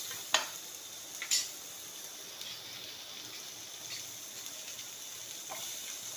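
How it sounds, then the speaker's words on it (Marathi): Chopped onion roasts in a pan for misal pav, a soft continuous sizzle with a few sharp scraping stirs of a spoon near the start, close and fairly quiet. "तो आपण खरपूस आता भाजून घेऊया तो पण"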